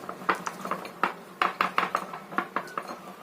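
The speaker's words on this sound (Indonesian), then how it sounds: "Kita aduk sampai tercampur rata atau larut" A spoon stirs prawn egg roll filling ingredients with two tablespoons of water in a bowl until dissolved, giving a run of quick, close clinking scrapes against the container in an irregular rhythm.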